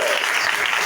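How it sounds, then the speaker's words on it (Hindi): Children at a bible camp kids' service clap their hands together in steady, dense applause that fills the whole moment at close range, without any clear speech over it. "अपना हाथ हिलाकर तालियां भी बजाएं।"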